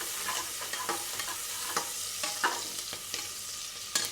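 Onions frying in oil with cardamom, cinnamon, black pepper, cloves and bay leaf: a soft steady sizzle under repeated scraping stirs of a spatula against the pan, each stroke a brief crisp accent, close up and without any talk.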